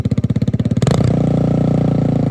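A motorcycle with a stock exhaust starts with rapid, throbbing low pulses, then settles into a loud, steady idle rumble close by, with no talk over it.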